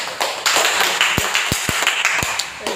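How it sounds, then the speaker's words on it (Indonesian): An audience gives applause in an Indonesian classroom session, a short run of scattered sharp claps over roughly three seconds, fairly close and distinct. "Oke, kita kasih aplaus."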